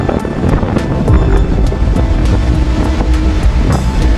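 Open-sea waves surge and wash loudly and close by, with a rhythmic series of slaps and splashes over a constant windy roar.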